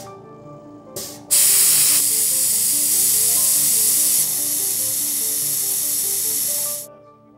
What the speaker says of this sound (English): let's see what happens when I spray it with the electrostatic charge turned off